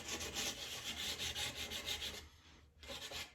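Sandpaper rubbing back and forth over a wooden piece, a steady rasping scrape in repeated strokes, close and fairly loud, with a brief pause near the end before the strokes resume.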